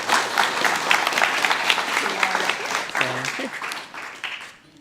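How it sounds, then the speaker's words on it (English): Audience at a Guide Dogs for the Blind class graduation applauds steadily and fairly loudly, with some voices and brief tonal sounds mixed in, before the clapping tapers off near the end. "Let's give a round of applause."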